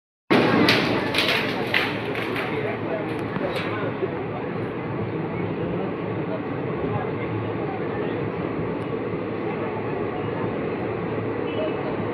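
The 13432 Nabadwip Dham Express passenger train runs between Malda Town and Bazarsau. A loud, steady rumble of the moving train continues without a break for the whole stretch.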